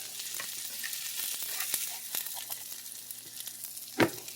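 Shrimp burgers fry in a pan with a steady, close sizzle and crackle that runs throughout, plus a louder clatter of a utensil near the end and no talking.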